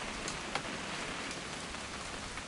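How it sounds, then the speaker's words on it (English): Steady rain pours down in a dense, even hiss in the video game What Remains of Edith Finch, with a few faint drips standing out. No voices. "It's gonna rain the whole weekend"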